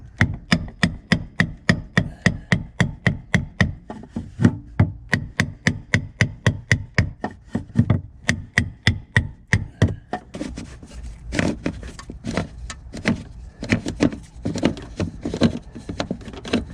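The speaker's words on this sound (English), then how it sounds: "So I'm gonna get a big screwdriver, and we're just gonna tap on it and loosen it up that way." A big screwdriver taps on the fuel pump flange nut of a 1997 BMW Z3 2.8l, giving steady rhythmic metallic knocks at close range, repeated dozens of times, with faster, irregular strikes toward the end.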